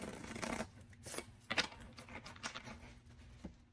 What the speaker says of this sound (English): Get one more shuffle for my Sagittarians.